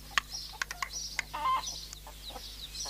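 A chicken clucks in a series of short, sharp, irregular bursts with a brief squawk in the middle, fairly faint over a steady low hum.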